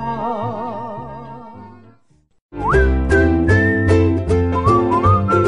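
A melodic whistled tune in a Korean pop song, first a wavering phrase, then a brief pause, then a brighter whistled melody over backing music.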